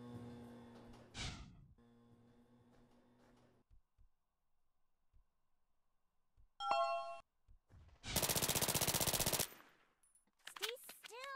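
A video game gunfight with short bursts of shots, a long loud rattle of rapid machine-gun fire near the middle, chiming electronic tones and stretches of near silence in between.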